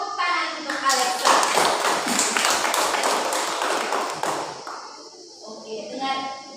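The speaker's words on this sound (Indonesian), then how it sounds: "Tepuk tangan untuk Alexa" Classroom of children applauding a student, a burst of dense clapping that fades out, with children's voices and a teacher speaking over it near the end.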